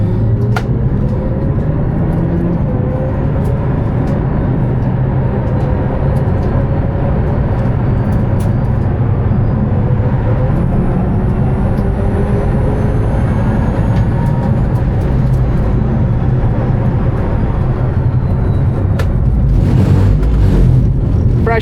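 Hyundai IONIQ 5 N electric car pulling away onto a race track, a loud, close rolling rumble with rising and falling motor whine and tire noise that swells toward the end.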